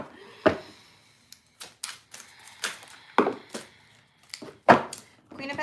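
A deck of tarot cards shuffled close by, with a string of crisp, irregular riffling bursts separated by short quiet gaps.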